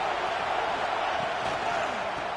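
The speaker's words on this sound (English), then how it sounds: "this crowd is turning it up a notch." A football stadium crowd roars in a broad, steady wash of noise as the home fans grow louder on second down, a dense sustained cheer with no clear breaks.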